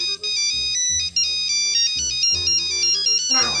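A phone ringtone plays a bright, repeating electronic melody up close, loud and continuous, with a brief bassy beat underneath.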